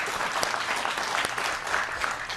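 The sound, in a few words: audience applause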